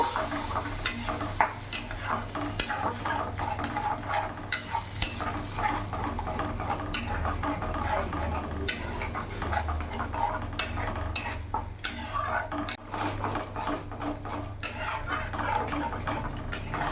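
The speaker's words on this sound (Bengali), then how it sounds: "মশলাটা কিছুক্ষণ কষিয়ে নিয়েছি।" Spice paste fries and sizzles in a pan on a medium gas flame while a spoon stirs and scrapes the metal with frequent sharp clinks, a continuous close crackle running underneath throughout.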